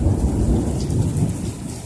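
Heavy thunderstorm with steady rain pouring onto surfaces and a deep rolling rumble of thunder underneath, dense and continuous throughout a short stretch with no voices.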